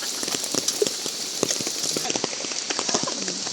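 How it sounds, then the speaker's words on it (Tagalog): Rain falls steadily at a campsite, a dense patter with scattered sharper drops landing close by on surfaces, even and continuous throughout. "Feel na feel niya yung ulan pero ako'y nababad trip sa ulan."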